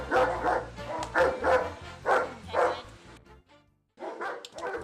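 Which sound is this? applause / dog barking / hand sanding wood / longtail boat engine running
dog barking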